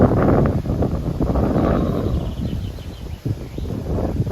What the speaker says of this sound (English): we've got windy conditions.